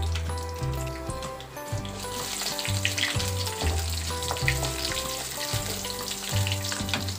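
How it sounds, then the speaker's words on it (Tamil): Ginger, green chili and dried chili frying in hot oil for coconut rice, a steady close sizzle with faint stirring and a low rhythmic background thump, no voices. "இதெல்லாம் கொஞ்சம் நிறமாடுற மாதிரி பொரியட்டும்."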